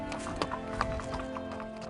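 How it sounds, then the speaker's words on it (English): Hooves clip-clopping on a hard surface as horses walk nearby, uneven steps with a faint background hum. "We're going to go get Goliath after we put the horses away."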